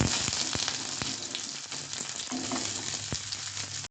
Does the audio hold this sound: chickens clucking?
no